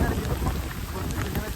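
Heavy monsoon rain, the first of the season, pours down steadily in a village, a dense, loud, even hiss that fills the whole stretch without pause.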